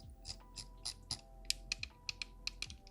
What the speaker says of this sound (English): the scroll wheel